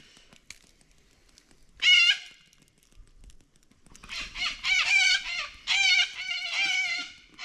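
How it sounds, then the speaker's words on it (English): Loud, raucous bird calls burst out in squawking, chattering bouts at a riverside campsite, one brief call then several longer overlapping cries, close by with quiet between. "Noisy birds, eh?"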